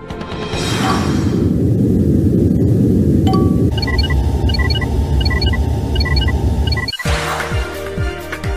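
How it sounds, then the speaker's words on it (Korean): Loud industrial site machinery noise, a dense low rumble with whooshing, then a tonal mechanical hum joined by rhythmic high beeping, ending in an abrupt cut and a quieter, thumping tail. "산업 현장의 소음까지"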